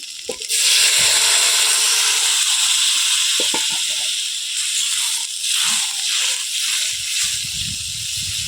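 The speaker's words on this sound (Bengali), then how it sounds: "কষিয়ে নিয়েছি এবার দেবো ঝোল" Broth poured into a hot pan of spiced rohu fish curry, cooked village style: a loud, close hiss and sizzle bursts out and holds steady, slowly settling into bubbling with faint stirring knocks.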